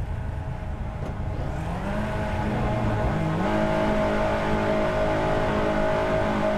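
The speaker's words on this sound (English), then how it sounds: "The engines rev, and we're going to get ready to go racing in just a few seconds' time." Race car engines rev together before the start at VIR, a steady loud drone with pitch rising and settling as the revs climb, heard close without any talking.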